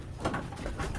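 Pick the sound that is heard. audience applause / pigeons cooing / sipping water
pigeons cooing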